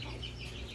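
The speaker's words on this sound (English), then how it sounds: "little baby chickens flying around" Young chickens cluck and cheep briefly at close range, a short burst of fowl chatter.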